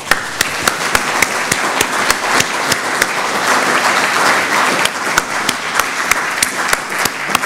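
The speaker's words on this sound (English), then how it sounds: "please join me in a big round of applause for our panelists" An audience at a Macedonian Society of Great Britain evening gives its panelists a round of applause, steady dense clapping with a few sharp individual claps standing out near the microphone.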